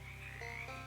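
A single sustained frog croak from the video game Shadows Over Loathing, with a low rhythmic pulsing rattle under a bright tonal call, close and fairly loud, with no talking.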